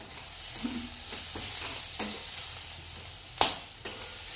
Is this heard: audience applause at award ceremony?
no